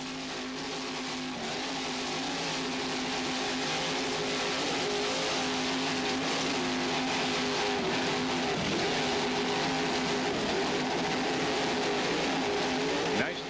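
Offshore racing powerboat engines drone loud and continuous at the 1999 Key West race, holding a steady throttled roar with slight pitch shifts, while a commentator talks over the noise.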